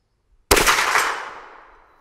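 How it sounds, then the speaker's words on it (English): A single loud report from a CVA Hunter .44 Magnum rifle strikes a steel plate outdoors, giving a sharp crack with a ringing metallic clang that decays over about a second and a half. "All right, one more shot on the plate."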